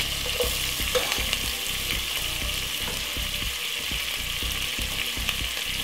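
Garlic frying in a teaspoon of butter added to oil in a pan, a steady bright sizzle overlaid with regular scraping strokes of a spoon stirring through it.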